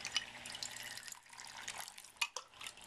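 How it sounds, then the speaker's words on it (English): Water drips into a storage container fed from a vertical holding container, with scattered close splashy drips over a steady faint trickle and no voices. "water drips into this other storage container"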